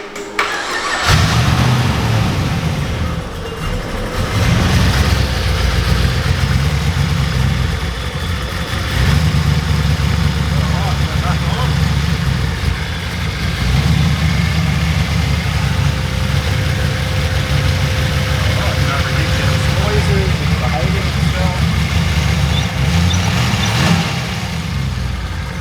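A ute engine runs and idles steadily after starter motor repairs in a workshop, a loud continuous low rumble that holds an even note throughout with slight fluctuations.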